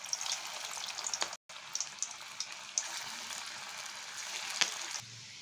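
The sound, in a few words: potato peel pakoras frying in hot oil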